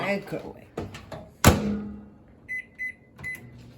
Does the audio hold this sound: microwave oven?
yes